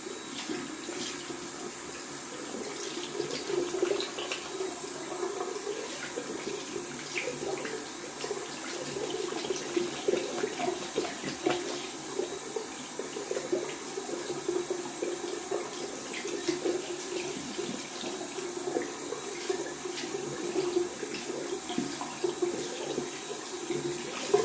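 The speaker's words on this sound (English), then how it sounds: "Just rinsing off down here the brush." Running tap water pours steadily into a sink as a shaving brush is rinsed beneath it, a continuous close splashing rush with slight fluctuations throughout.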